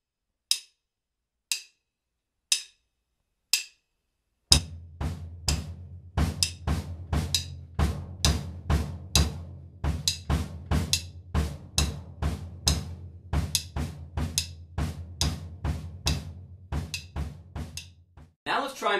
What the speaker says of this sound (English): let's familiarize ourselves with the pattern that we're going to be playing on the bass drum